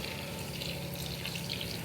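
A little water is poured into a pressure cooker holding tomatoes, cinnamon, cloves and salt, giving a soft, steady trickling splash at close range with no talking.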